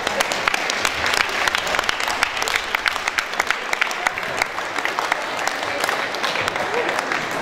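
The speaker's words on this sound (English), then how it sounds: "Please give them a round of applause." Steady, dense applause from a dinner audience fills the room for the whole stretch, many hands clapping at once with no lulls and no voices breaking through.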